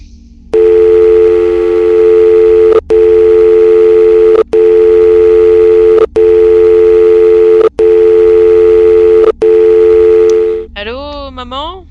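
A telephone call in a Minecraft game: a brief dial tone, then a loud repeating ringback tone in long evenly spaced pulses, ending with a warbling electronic tone, close and alone.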